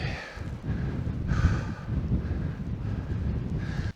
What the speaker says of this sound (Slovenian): Na Konjskemu sedlu seveda piha, upam, da bo gor bo tale vetrček malo pojenjal